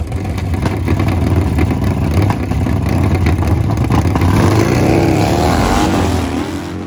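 A drag racing motorbike roars loudly through a sustained, close engine run, with the snarl rising and holding as it accelerates and easing slightly near the end.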